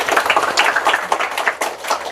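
An audience at a school gathering claps in thanks for the principal, a brisk, dense round of applause close by that slightly thins toward the end.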